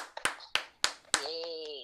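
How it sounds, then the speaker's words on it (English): A few distinct hand claps ring out one by one in a morning radio show studio, followed by a sustained cheer-like tone; sparse, close and fairly quiet. "Come on, let's clap."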